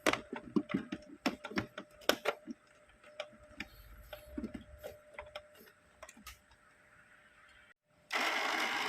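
An Epson printer being switched on, its gears clicking and ticking in an irregular run of sharp taps that gradually thin out, then a short pause before a steady whirring hiss.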